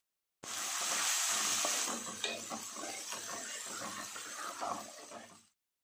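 Onions frying with ginger-garlic paste in a pan over high flame give a bright, loud sizzle that starts abruptly and then settles into a continuous crackling hiss with light stirring clatter until it cuts off.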